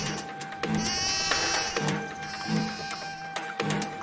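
A goat bleats repeatedly in long, wavering cries over a background of steady tones and music, close and insistent, with no talking.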